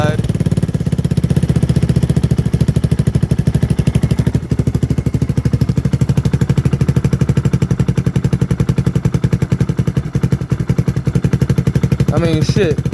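A Lifan KP Mini 300 4V ZS175FMN engine idles on a bike with a steady, loud, fast pulsing chug that holds even and unbroken for the whole stretch.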